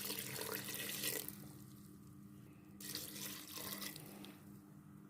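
Water poured into a cooking pot of beef and potato stew, a steady rushing splash that eases off and then resumes, fairly quiet and heard alone.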